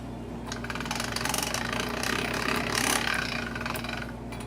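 A hand-cranked pasta machine is turned steadily while rolling out fresh pasta dough, giving a continuous close mechanical whir with a fine rapid ratcheting texture for several seconds, with no talking.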